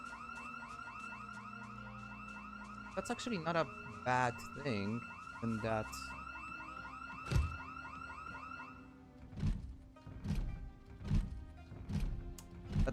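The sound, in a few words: house alarm going off in Project Zomboid video game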